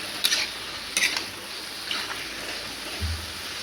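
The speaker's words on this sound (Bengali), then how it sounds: "আলুটা দিয়ে দিচ্ছি এখন আলুটা দিয়ে ভালো করে কচে নিতে কচে নিতে হবে" Potatoes stir-fried in a pan for Bengali soybean curry: a few scraping stirs with light clatter over a faint continuous sizzle, quiet and close, with no talking.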